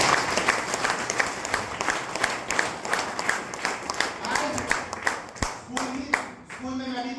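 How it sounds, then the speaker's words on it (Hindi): A crowd at a Sunday business meeting claps in a steady, rhythmic burst, fairly close and sustained, with voices breaking in near the end as the clapping trails off. "पर जोरदार ताली हो जाए"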